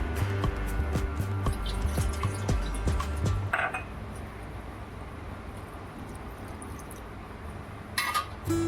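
Water pours steadily into a pan of pav bhaji vegetables in the opening seconds, followed by a softer dripping hiss and a brief splash near the end.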